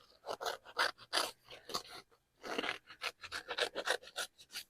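Crisp, rhythmic snipping and rasping strokes of scissors cutting fabric in quick bursts, close by, with a short pause midway before the cutting resumes.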